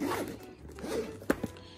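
A zipper runs in short rasping pulls on a Nintendo Switch carrying case, followed by a couple of soft clicks, close and fairly quiet, with no talking over it.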